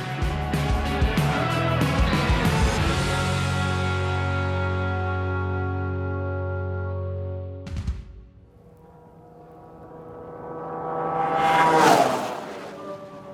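A 650 snowmobile with no studs screams at full throttle across a flat frozen lake, its loud engine whine with falling harmonics trailing off as it pulls away, then a second sled roars in close and sweeps past near the end.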